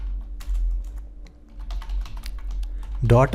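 Keyboard typing during a Shopify store setup, a run of quick, light key clicks at close range over a steady low hum, ending in a louder burst.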